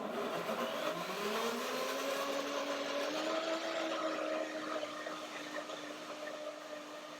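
Kitchen blender whirring as it blends fruit with yogurt, its motor spinning up in pitch over the first few seconds and then holding a steady, moderately loud drone.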